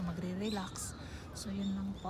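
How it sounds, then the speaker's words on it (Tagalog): Birds call in a clean green park, with crow-like caws rising briefly above a woman's quiet speech, moderately near but faint overall. "maririnig niyo yung huni ng mga ibon."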